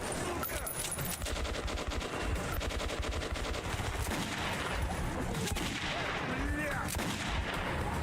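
Gunfire in the video game Metro 2033 Redux, dense repeated shots and bursts sounding close and loud throughout, with a voice talking faintly underneath.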